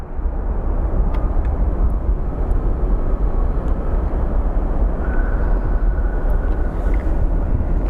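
A Spirit Airlines airliner at Phoenix Sky Harbor airport gives off a loud, steady broadband jet roar, close and continuous throughout, with no voices over it.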